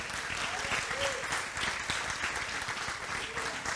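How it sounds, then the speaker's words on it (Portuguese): A church congregation applauds in a steady, dense wash of clapping that fills the whole stretch without a break, with no clear voices standing out. "Pode aplaudir o Senhor?"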